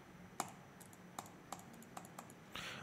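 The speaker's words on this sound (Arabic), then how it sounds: "هاي كبسة الماوس" Computer mouse clicks picked up by a LensGo KD95 microphone over a faint air conditioner hum: about seven separate sharp, light clicks at uneven intervals, followed by a brief rustling at the end, no voices.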